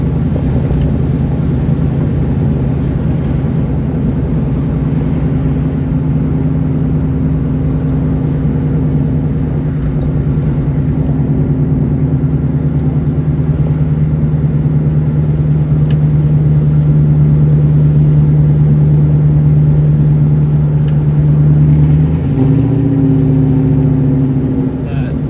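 A 2003 New Edge Mustang GT 2V hums at a steady cruise from inside the cabin, its low engine drone holding even throughout, with a slight change in pitch near the end.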